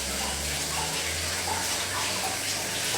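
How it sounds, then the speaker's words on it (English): Warm water pours steadily into a mixing bowl for soft rolls dough, a continuous close splashing gush running the whole time without a break. "I'll put the warm water here"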